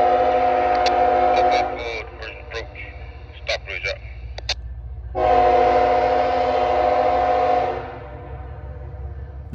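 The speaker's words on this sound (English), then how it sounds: "as they are seen at Stockbridge going in the siding to meet a northbound train" A train horn sounds in several blasts over the steady rumble of a passing BNSF office car special at Stockbridge, Georgia, and people talk over it partway through.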